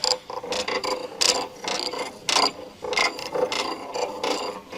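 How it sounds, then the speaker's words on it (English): A 19mm wrench works the sway bar link mounting nut on a 2013 Jeep Wrangler JK, making close, rhythmic bursts of metallic ratcheting and rasping clicks separated by brief pauses. "Use a 19mm wrench to remove the mounting nut of the sway bar link on the opposite side."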